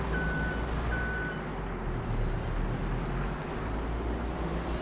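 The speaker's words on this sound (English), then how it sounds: "So we're going to jump in this little forklift." Forklift reversing alarm in Farming Simulator 22, with two spaced high beeps early on over a steady low engine rumble; the engine drone continues alone afterward.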